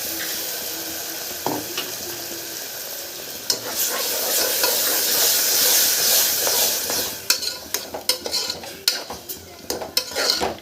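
A ground paste of tomato, mint, coriander and coconut hits a hot pan for tomato rice, a loud burst of sizzling that settles into rapid clattering stirs of a spoon against the pan.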